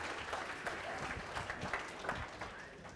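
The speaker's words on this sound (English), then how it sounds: "Give them a round of applause." Church congregation applause during a Sabbath morning service, a moderate, uneven patter of clapping from a roomful of people, steady across the whole stretch.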